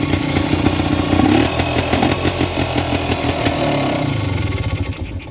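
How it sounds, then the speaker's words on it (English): A classic Yamaha TY250 motorcycle running low on fuel sputters unevenly and close up. The engine note is loud and chattering, with rough, fluffy throttle blips that fade toward the end. "This lovely little TY250, it's just running out of fuel at the moment, which is why it sounds a bit fluffy on the throttle"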